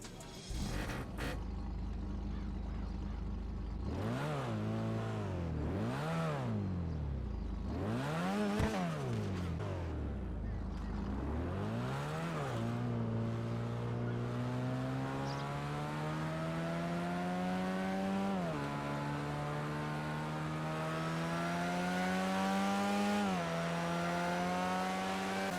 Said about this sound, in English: it's not the best, like, example of a rotary idle, but when you actually drive the car, you do hear the difference in the tone